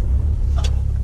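A 2019 Lincoln Navigator engine idles with a loud, steady low rumble right after starting, with a brief faint click partway through.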